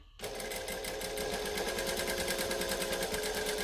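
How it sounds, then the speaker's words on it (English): A sewing machine starts and runs in a fast, even whir, stitching and back stitching fabric for a garment, loud and close with no talking. "we're going to stitch and we're going to back stitch"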